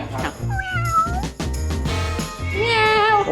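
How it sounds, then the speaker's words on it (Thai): Cats at a Thai temple's cat condo meow loudly and close by, several drawn-out cries in a row, with some voices in the background. "คอนโดแมวด้วย นี่ค่ะเลี้ยงดูอย่างดี น้องแมวนี่ค่ะ"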